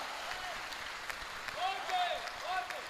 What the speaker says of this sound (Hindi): जब तक ताली नहीं बजाओगे तब तक तो यही गाऊंगा